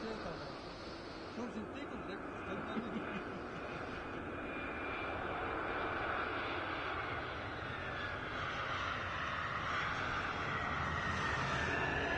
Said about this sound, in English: Also in the background you saw one plane departing.